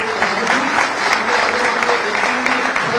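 A crowd at a government ceremony for handing out appointment letters to state tax inspectors applauds, with brisk, continuous clapping and a voice speaking over it.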